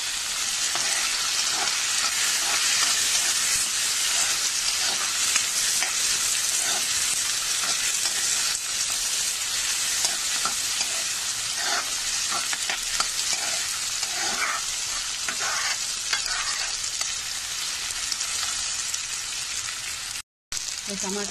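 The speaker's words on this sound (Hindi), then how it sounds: "तो टमाटर थोड़ा फ्राई हो गया है" Tomatoes and curry leaves fry in a pan with a dense, loud, continuous sizzle and scattered stirring scrapes, a voice faintly audible at moments.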